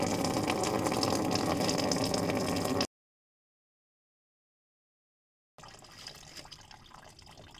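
Old coolant drains from the cooling system of a Skoda Fabia, a steady close splashing pour of liquid that cuts off to silence, then resumes as a quieter trickle.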